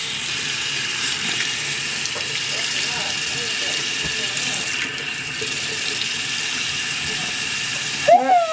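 Water runs steadily from a tap into a sink while a child washes hands, a continuous close hiss and splash with a brief louder splash near the end, and an adult talks over it.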